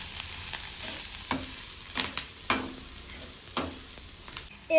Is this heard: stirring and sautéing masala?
yes